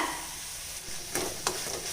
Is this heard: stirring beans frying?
yes